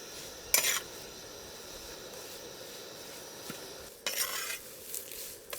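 Curry leaves dry-roasting in a pan for a village garlic chicken give off brief bursts of crisp crackling and rustling, with a faint steady hiss between them.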